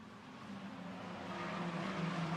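Race cars from the 7 Race Series 1600s class dropping through the right-hand Hawthorns corner at Brands Hatch, engines heard faintly and from a distance, swelling slightly as they approach.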